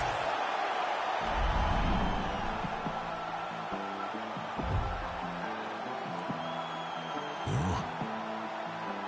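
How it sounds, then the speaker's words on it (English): Arena crowd roaring and cheering after a TKO finish in the UFC 5 fighting video game, a broad sustained swell of many voices with brief louder surges, steady throughout. "A huge TKO result here tonight, and this crowd is letting her know."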